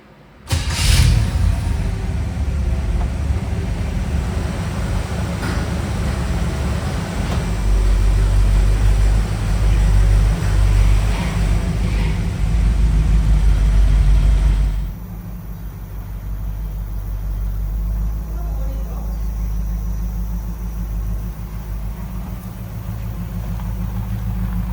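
Engine of a 1970 GMC C2500 truck pulling away, a loud low rumble that builds for about fifteen seconds, then drops to a softer, steady drone as the truck rolls on.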